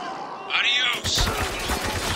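Rapid gunfire from the Spec Ops: The Line video game rattles through a chaotic firefight, with bursts layered over shouted voices and background battle noise.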